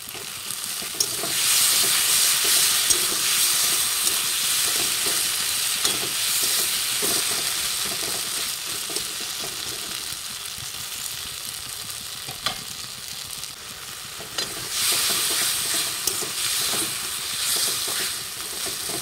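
Ground spice paste and chopped tomato frying in a pan on a rooftop, village-style cooking, a loud sustained hissing sizzle with occasional stirring clatter, swelling again late on.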